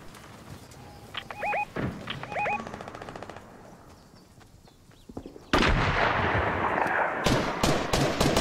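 Rapid bursts of automatic gunfire in a video game, short rattling volleys followed by a sudden loud wash of sharp repeated shots and crackling explosions, with no talk.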